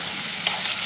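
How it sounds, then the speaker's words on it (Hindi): Chicken liver and kidney frying with finely chopped black pepper in a Hyderabadi kaleji and gurda fry, a steady close sizzle with a faint stirring scrape, no talk. "काली मिर्ची बारीक कटी हुई डाल के उसके साथ फ्राई करें"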